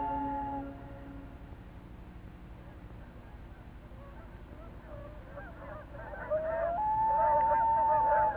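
Canada geese flying in at dawn give honking calls that build toward the end. Low rumbling fills the opening seconds, and a few softer calls come before the loud honks.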